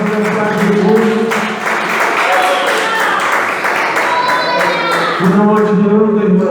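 A church congregation claps at a communion service, a dense, fairly near burst of applause that runs under a voice speaking through a microphone over it.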